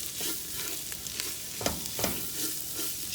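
Garam masala spice blend sizzles with browning onion, ginger, garlic and vegetables in a pan, a close, steady frying hiss broken by scraping stirs and clatters, no talk.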